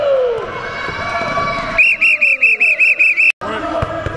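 A referee-style whistle blown at a youth basketball drill in a gym, giving a rapid series of about seven short sharp blasts after a stretch of coaching voices and court noise.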